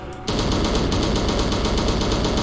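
AK-47 fire in a video game opens abruptly and keeps going as a loud, continuous rattling barrage that fills the clip, with no voices.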